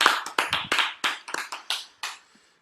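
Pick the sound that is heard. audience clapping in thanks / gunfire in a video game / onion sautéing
audience clapping in thanks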